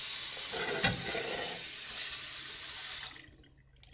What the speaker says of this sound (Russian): Как раз кастрюлю помою.